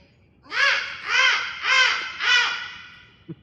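A voice imitates a harsh, screeching bird caw, repeated four times in an even rhythm, loud and close, with two short clicks at the end.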